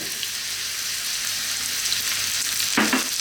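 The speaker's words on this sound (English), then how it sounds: "At this stage, we're going to add in some onion." Raw potatoes and onion frying in a pan for a potato curry, a loud continuous sizzle with a brief clatter of stirring near the end.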